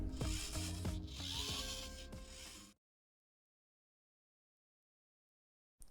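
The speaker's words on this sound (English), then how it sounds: "Just listen to the sound of those gears." Plastic gears in a BB8 droid gearbox turn with a close, steady mechanical whir and ratcheting clicks for under three seconds, then cut to silence.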